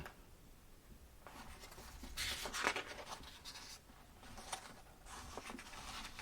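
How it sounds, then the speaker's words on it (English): Pen or pencil scratches across paper in close, quiet bursts of handwriting, with short pauses between strokes and faint rustling, no voices over it. "then I'll write it down"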